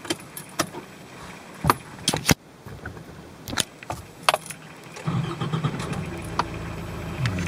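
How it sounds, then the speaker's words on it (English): Inside a Nissan Navara D40, keys clatter and click as the ignition turns, then the diesel engine cranks and catches around five seconds in, settling into a steady idle hum close by with no talking. "turn on the ignition and start the car."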